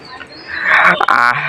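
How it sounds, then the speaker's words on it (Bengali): Young Chinese geese about two months old, in a small group of seven, give a brief, close, harsh honking call lasting under a second. "মানে এখানে তো চীনা হাঁস আছে মোট 7টা, 3টা আর 4টা 7টা।"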